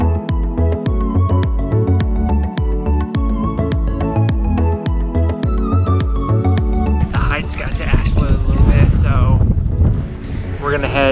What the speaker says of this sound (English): we're pretty high up and it's kind of windy, so apologies for the wind if it's quite windy